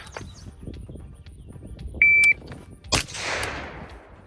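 Gunshots from a high ready shooting drill on a range, with a single sharp crack near the end followed by a decaying echo, after quieter handling sounds and a brief timer beep.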